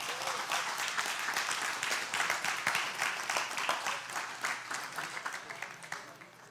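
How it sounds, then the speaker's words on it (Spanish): Church congregation applauding at the close of a Bible study message, a sustained wash of many hands clapping at moderate distance that gradually thins out toward the end. "Dele palmas a Cristo."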